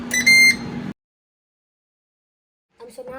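Ninja air fryer beeping after start is pressed: a short bright electronic tone burst up front, followed by silence, then a few faint soft blips near the end.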